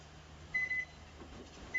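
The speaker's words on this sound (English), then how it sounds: "we're going to set our timer for 22 minutes" Oven timer being set while vegan gluten-free cornbread muffins bake, two short high electronic beeps about a second apart over a quiet room.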